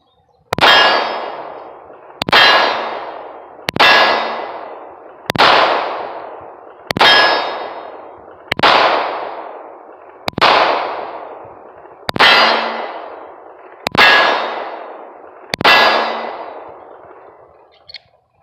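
Shots from a Smith & Wesson M&P 9 pistol striking steel targets: ten evenly spaced sharp cracks, each followed by a bright ringing clang that decays before the next, loud and with no talking.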